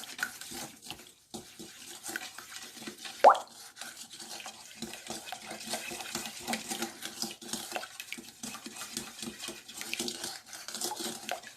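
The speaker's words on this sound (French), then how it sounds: "Je vais bien mélanger." Concentrated lemon zest mixture being stirred in a bowl, soft wet clicking and scraping of a utensil in a steady rhythm, close and quiet, with one brief sharper clink.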